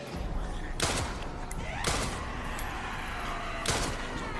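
Gunfire at zombies in Resident Evil 9 gameplay: three heavy, reverberant shots roughly a second apart over a loud, constant game ambience.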